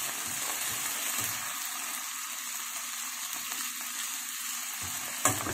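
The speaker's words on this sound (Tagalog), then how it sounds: "Saute na rin natin yung ating patatas." Potatoes sauté in a pan of corned beef and vegetables, giving a bright steady sizzle with occasional stirring clatters and one sharp knock near the end.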